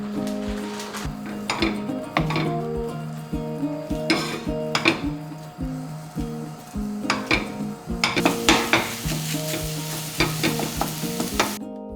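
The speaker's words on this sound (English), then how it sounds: "I'm heating up a skillet for the sausage I'm about to cook" Sausage fries in a hot skillet with a constant loud sizzle, while a utensil repeatedly scrapes and clinks against the pan as it is stirred.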